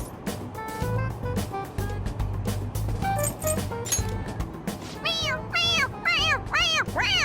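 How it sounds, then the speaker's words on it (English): A toy cat in Persona 5 Royal lets out a string of bright, rising-and-falling meows when its head is pressed, several in quick succession toward the end, over game background music and brief voices. "It meows when you press on its head."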